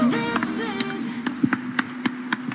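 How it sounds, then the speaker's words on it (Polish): A handful of sharp, separate hand claps ring out at a DuoLife company stage event in Poland, sparse and uneven, following a sustained tone at the start. "Wielkie brawa, moi drodzy."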